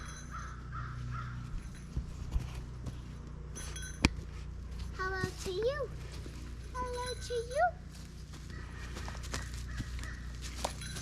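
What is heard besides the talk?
crows cawing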